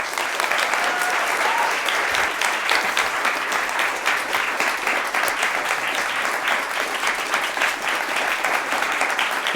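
An audience applauds Nazanin Zaghari-Ratcliffe, sustained loud clapping from a large crowd that holds steady for nearly ten seconds without letting up.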